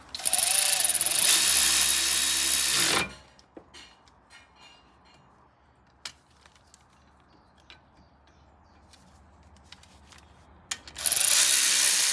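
A power tool runs loudly for a few seconds, then scattered clicks and clinks of hand tools follow as Audi A3 front brake caliper bolts are tightened, before the power tool whirs again.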